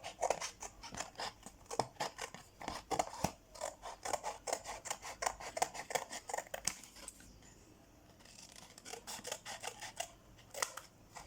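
Scissors cut out a paper net for a pentagonal prism, making a quick series of crisp close snips with a short quieter pause before the cutting resumes.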